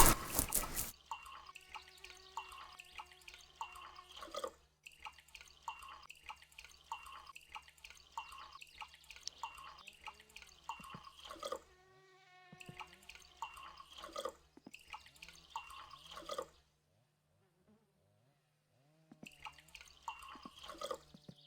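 In the My Summer Car video game, a coffee machine nozzle fills a cup with a stream of drips and trickles, coming in bursts with brief silent gaps and one longer pause near the end.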